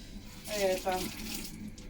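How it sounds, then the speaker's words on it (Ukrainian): A washing machine draws in water, a brief gurgling rush of flow with a short burst of bubbling in the middle, heard fairly close in a home setting. "Машинка воду включила."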